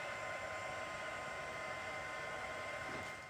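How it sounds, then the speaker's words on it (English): Heat tool blowing steadily while melting embossing powder on a birthday card, a close, continuous whirring hiss with no break and no talk. "so now we're going to heat this up"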